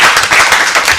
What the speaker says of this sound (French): on demande au public qui est sur respect ici présent qu'on les applaudisse quand même pour les encourager